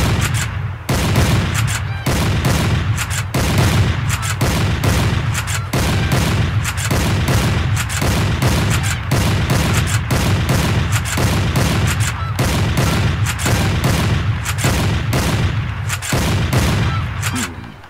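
Shotgun fire in the Cabela's Dangerous Hunts 2011 hunting game on PS3: a steady run of loud, closely spaced booming shots roughly every second, continuing for the whole stretch with dense rumbling between blasts.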